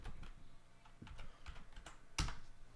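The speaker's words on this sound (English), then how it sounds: "Here we'll type in YouTube," Keys on a computer keyboard clack quietly in a short, irregular burst. The final keystroke lands louder than the rest.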